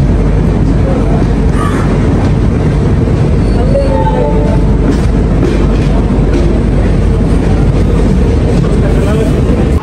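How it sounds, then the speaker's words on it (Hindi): The Duronto Express rolls into Madgaon station with a loud, continuous rumble and rhythmic wheel clatter heard from inside the train, steady throughout. "बस मडगांव अपना ट्रेन एंटर कर ही रहे"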